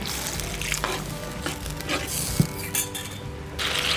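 Steady sizzling and bubbling of country chicken curry boiling in a pan, with a few faint clinks of a utensil against metal, continuous and fairly close.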